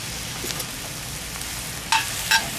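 A tablespoon of butter sizzles in a cast iron pan preheated over medium-high heat, a soft continuous frying hiss with a couple of sharper crackling spatters near the end.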